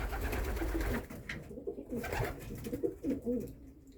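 Racing pigeons coo softly in a loft, several low rhythmic coos close by against a murmur of other birds and faint background voices.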